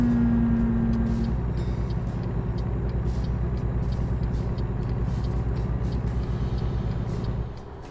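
Another vehicle drives past in American Truck Simulator, a steady engine hum over the player's own truck noise with a brief tonal whine early on; the sound holds level throughout and drops off abruptly at the very end.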